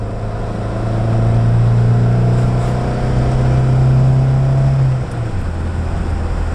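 An Austin Ambassador's engine drones steadily from inside the car, holding a loud, even note for several seconds before the pitch drops away near the end as it changes gear.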